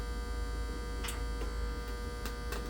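A 175 watt mercury vapor street light head hums with a steady, faint electrical buzz, a few soft ticks and crackles over it, no voices.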